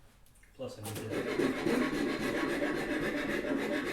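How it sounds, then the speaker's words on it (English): A rasp works a wooden backsaw handle, steady scraping strokes that start after a brief spoken phrase and continue close and rhythmic for the rest of the clip. "to rasp a little bit back here anyways"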